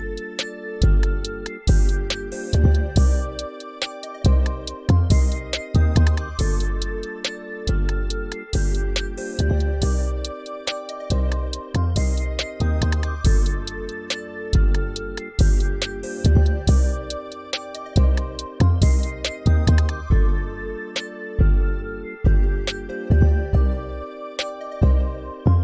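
A plugg-style hip-hop beat made in Bitwig 4 plays loud and clean, with booming bass hits, a steady drum pattern and a bright synth melody looping over and over, with no voices.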